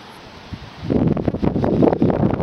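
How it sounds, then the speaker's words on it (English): Wind gusting against the microphone, starting quietly and building into a steady, loud rushing buffet with some rustling, no voices. "Oh, this is a good windy day today too."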